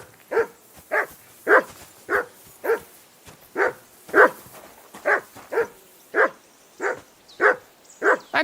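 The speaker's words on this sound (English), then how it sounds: "That dog of yours is barking" A dog barks repeatedly in Kingdom Come: Deliverance II, about fifteen sharp, evenly spaced barks over several seconds, close and clear with no talk over them.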